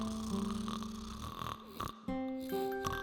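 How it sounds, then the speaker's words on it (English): An old woman snores indoors in slow, rasping breaths with a wheezy, whistling tone, faint and echoing through a house. "The sound of the old lady snoring was echoing in the house."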